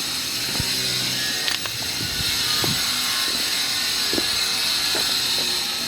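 A socket wrench with a 15 mm socket ratchets on a suspension bolt of a 2012 Mustang GT, giving scattered clicking bursts and pawl ticks at close range over a steady background hum, with no talk.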